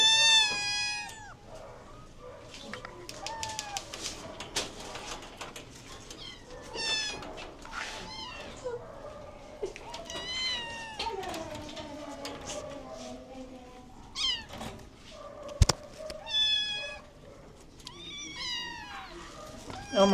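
Several cats meow repeatedly at the Harlan County Animal Shelter, high overlapping cries coming close and clear in irregular bursts, with a few quiet voices talking underneath.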